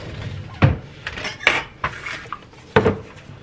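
A knife and other cutlery clatter against dishes in a kitchen while a grilled cheese sandwich is made, giving several separate clinks and knocks close by, with quiet handling between them.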